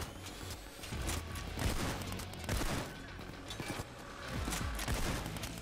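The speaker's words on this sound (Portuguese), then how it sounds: "Da onde estão vindo essas balas?" Dense gunfire in Payday 2 during a heist, a continuous stream of overlapping shots and impacts at moderate loudness.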